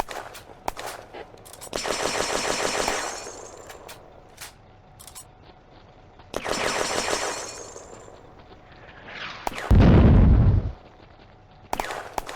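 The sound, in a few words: German mortar fire in the video game Firefight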